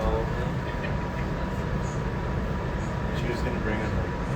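An R211A C local subway train rides between stations in New York, giving a continuous loud rumble and rattle of wheels on track, with voices heard over the constant noise.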